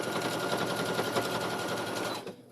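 Sewing machine stitching the side seams of a girl's dress, a loud rapid even chatter of the needle running steadily before slowing and stopping at the end.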